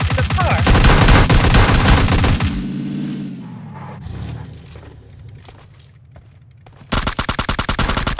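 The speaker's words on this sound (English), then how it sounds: "Oh, somebody's shooting at us." Loud video game gunfire in PUBG Mobile, with a dense rapid burst of automatic shots, a lull filled with engine hum and rumble, then another sharp rapid volley at the end.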